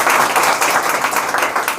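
An audience claps steadily and continuously through the moment, a dense, even patter of many hands with no pauses, fairly loud and close.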